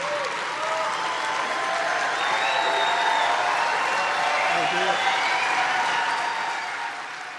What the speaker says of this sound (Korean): 아주 환호를 막 열광하면서 지지하면서 환호성을 지르는 청중들의 박수 소리와 환호를 여러분 들으셨습니까?